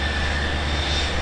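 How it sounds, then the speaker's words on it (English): A-10 Thunderbolt II jet roaring past at an airshow, a loud, steady engine drone with a high whining tone running unbroken through the moment, no voices. "Watch the wings of the aircraft and Captain Joffrey Matter."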